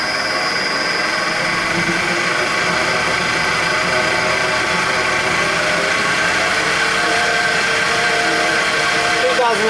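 A wood turning lathe motor runs steadily and loud up close, its hum holding even with a faint rise in pitch as speed increases, while a person speaks over it.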